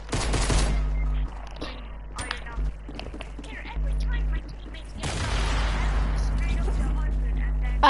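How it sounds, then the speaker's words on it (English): Bursts of gunfire in an online shooter game, loud and in clusters with short gaps, the firing aimed at the player's character, over steady low game noise. "People are trying to shoot me."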